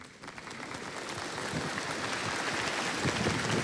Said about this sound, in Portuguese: Vocês já começaram a aplaudir a palavra de Deus?